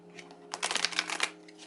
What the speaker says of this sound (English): I'm giving this a shuffle.